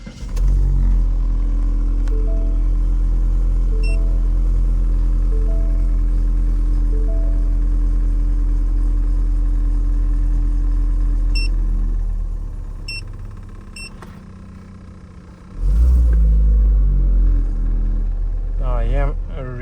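A car engine idles steadily and loudly for most of the stretch, dips and quiets briefly, then surges back with a rev; short electronic beeps sound over it, with no talking.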